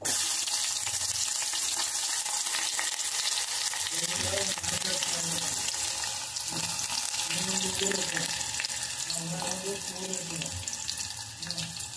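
Chopped onions hit hot oil on a home kitchen stove, producing a steady broadband sizzle that runs throughout while a voice talks over it in bursts.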